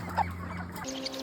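Chickens cluck close by while they are weighed in boxes and loaded onto a vehicle at a poultry farm, a few short clucks over a steady low mechanical hum.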